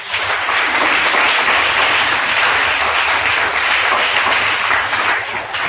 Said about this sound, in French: On va acclamer le Seigneur.